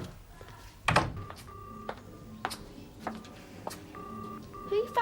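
Telephone dialing in a domestic comedy scene, short electronic tones and beeps in a sparse pattern with a sharp knock near the start, quiet room ambience and faint background voices.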